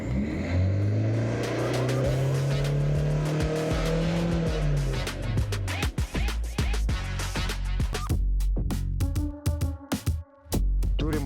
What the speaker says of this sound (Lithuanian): dabar turim automobilį Volvo ir jam padarysim dūmingumo matavimą